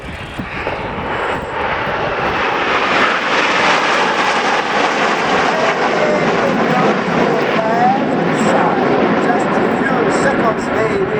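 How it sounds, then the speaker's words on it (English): Formation of ten Frecce Tricolori jets at the 2013 Royal International Air Tattoo, a loud broad roar of engines sustained throughout as the aircraft pass in front of the crowd, with a commentator talking over it. "10 aircraft just here in front of you, ladies and gentlemen, 2013 Frecce Tricolori"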